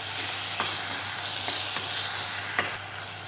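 Tomatoes sautéing with onion in a pan for veg kurma: a steady, close sizzle with a few soft stirring scrapes, no talking.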